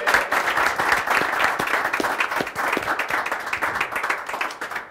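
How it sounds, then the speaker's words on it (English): Audience applause at a startup networking event, many people clapping at a steady moderate level with a few individual sharp claps standing out, continuing for several seconds before tapering slightly. "we're going to give them a round of applause for being here tonight"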